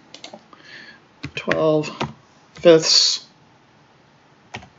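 Keys on a calculator are tapped in a few quick, light clicks during a math lesson, mostly underneath a person speaking.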